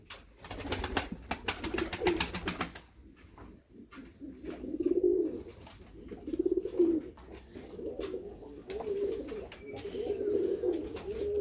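Pigeons kept in a loft coo in repeated low, throaty phrases at close range, rising and falling in rounded bursts after a brief opening flurry of wing flaps and rustling.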